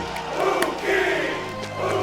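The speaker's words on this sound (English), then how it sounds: "Look at quite the crowd you've caused to gather here, Hewkii." A crowd gathers and shouts in a Bionicle fan film, giving a brief burst of mingled voices and cheers that swells and fades in waves.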